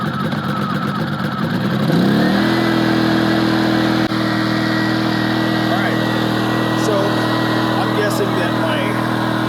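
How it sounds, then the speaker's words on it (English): An Erayak 4500P inverter generator is pull-started, catching after about two seconds and settling into a loud, steady engine hum that runs on close by with a brief click midway. "Let's give it a start and see what it sounds like."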